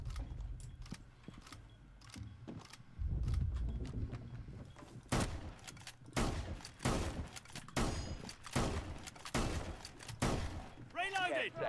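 Magazine swap and gun reload in Rainbow 6 Siege, with sharp metallic clicks and clacks mixed among scattered gunshots and game sounds, moderately loud, with voices talking during it.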